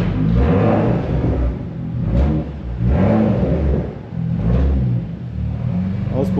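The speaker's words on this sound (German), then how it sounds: "die Auspuffklappe flattert irgendwie ein bisschen" A BMW M2 revs in repeated swells, the exhaust flap fluttering as the engine climbs and falls, loud and close with a deep rumbling drone between peaks.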